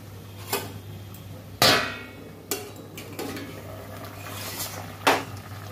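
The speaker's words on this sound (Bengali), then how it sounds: "ঢাকা দিয়ে দেবো, ঢাকা দিয়ে সেদ্ধ করতে দিলাম।" A metal lid goes onto a cooking pot of dal and vegetables set to boil, giving several sharp clanks and knocks spaced a second or so apart over a low steady hum.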